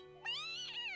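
A cat gives a single clear meow, close and loud against a steady background hum, with no talk.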